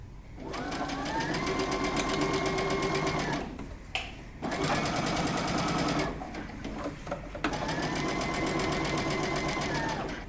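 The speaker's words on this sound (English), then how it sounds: "Back stitch at the beginning and at the end." A sewing machine back stitching a jacket hem runs in three steady whirring bursts, close and loud, separated by brief pauses as the fabric is reversed.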